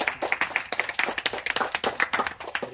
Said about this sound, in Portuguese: Uma salva de palmas pra esse menino.